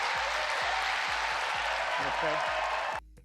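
A crowd applauding at a televised political event held at Mount St. Joseph University in Cincinnati, Ohio: sustained loud clapping with a rhythmic beat and voices mixed in, cutting off abruptly near the end.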